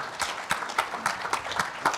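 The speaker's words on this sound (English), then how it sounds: "I want to have everyone give you a round of applause" An audience applauds a panel at a summit on road salt issues in the Adirondack Park, a brief, steady round of many hands clapping at moderate distance with a few sharper claps standing out.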